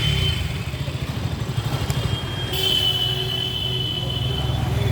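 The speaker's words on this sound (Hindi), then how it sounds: "और डोमिनार देखिए कितना लाउड और कितना रिफ्रेश साउंड प्रोड्यूस करती है।" A 2021 Bajaj Dominar 250 motorcycle idles with a steady, close, low, throbbing rumble from the engine and exhaust. A faint whine rises slightly partway through.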